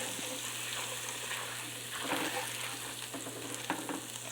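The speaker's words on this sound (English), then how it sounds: "you put your flour in there and you stir it up" Steady sizzling of hot frying oil as flour is stirred in for gravy, with soft scraping and stirring noises throughout, close by and continuous.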